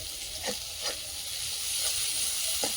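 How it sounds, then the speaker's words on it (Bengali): Chopped ginger, onion and green chilli fry in hot oil for potato chops, a loud continuous sizzle with a few brief stirring scrapes and no talk. "তেলটা গরম হয়ে গেছে, দিয়ে দেবো আদা কুচি, পেঁয়াজ কুচি, কাঁচা লঙ্কা কুচি"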